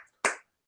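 Two sharp hand claps, the first a longer ringing clap and the second a brief one just after, loud and close with nothing else sounding.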